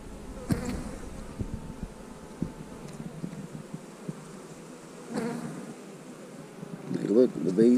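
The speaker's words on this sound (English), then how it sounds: "Bees look healthy." Steady insect buzzing from many bees around a hive frame close by, a dense humming drone with occasional louder passes and some faint rustling.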